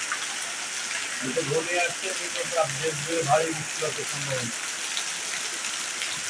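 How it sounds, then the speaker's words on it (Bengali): Sudden rain at dusk comes down as a steady hiss across the whole clip, with faint patters and a few soft tonal chirps scattered through the middle. "বিকালবেলা গধুলি লগ্নে হঠাৎ বৃষ্টি"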